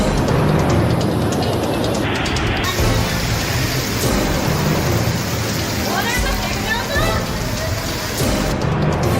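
Steady heavy rain pours in Gujarat with a dense hiss throughout, with traffic-like rumble underneath and a brief muffled voice partway through.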